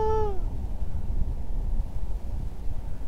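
A single cat meow at the very start, a short downward-sliding cry, then only low background rumble with no talk.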